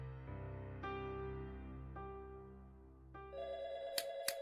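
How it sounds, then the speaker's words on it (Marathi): A telephone rings in a Marathi TV serial household scene, with two sharp bell-like strikes near the end over sustained background music. "जान्हवी जरा फोन घे घे घे."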